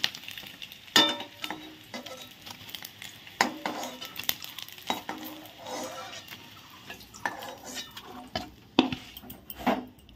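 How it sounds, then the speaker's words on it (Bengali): A utensil stirs and scrapes in a pan, with clinks and knocks over a light sizzle of frying in oil as turmeric is stirred in. "হলুদ দিয়ে একটু নেড়ে চেড়ে ভেজে নিচ্ছি ভালো করে"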